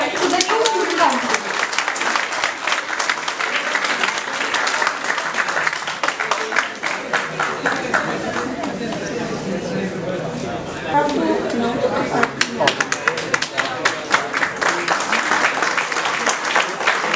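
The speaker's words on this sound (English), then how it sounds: "Please give a huge round of applause to the new student council." An audience at a school investiture ceremony gives the new student council a big round of applause. Dense clapping rolls on for many seconds, with crowd chatter and voices mixed in.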